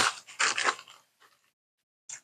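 Loud, close crunching bites of crunchy sour candy, a few crisp chews in quick succession, then a pause and one more crunch.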